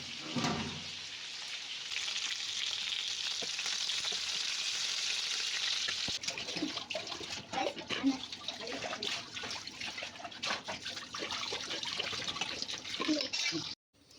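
Chicken cooking in a pot of reducing water, a steady bubbling sizzle that stays fairly loud throughout, joined by scattered clinks and scraping noises in the later half.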